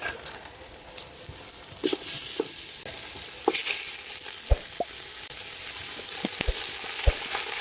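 Whole spices such as cardamom, peppercorns and cinnamon fry in hot oil as a base for mutton curry, a steady sizzle broken by scattered sharp pops and crackles.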